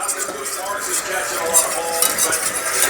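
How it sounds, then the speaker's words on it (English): A whisk stirring butter melting in a pan, a busy scraping swirl with light metallic clinks over a soft sizzle, close and fairly loud. "I'm going to get this whisk going here"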